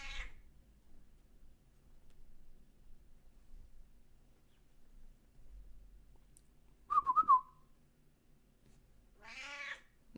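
A house cat gives a short rising meow midway, then another drawn-out meow near the end, both fairly clear against a quiet room.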